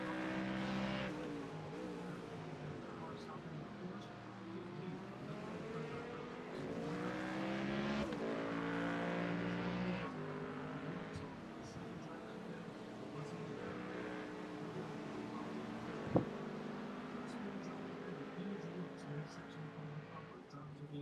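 Mustang GT3 race car at Circuit of the Americas in the iRacing simulator, engine rising and falling in pitch through gear shifts and corners, with a sharp click around the middle and occasional talk over it.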